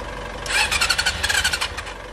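A stock patrol-style big bike with a very weak battery and no fuel is jump-started, producing a few seconds of rapid rhythmic cranking and whirring that never catches into a running engine.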